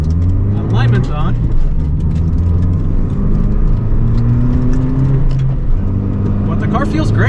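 A lively car engine pulls along a race track, a steady mid-pitched drone with rising and falling revs and gear changes, close and continuous, with a person talking over it in places.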